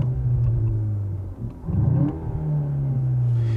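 A 2021 VW Arteon R Shooting Brake with a 320 hp engine revving while stationary, a close steady hum that dips briefly before rising into a louder, rougher rev, then settling back to idle.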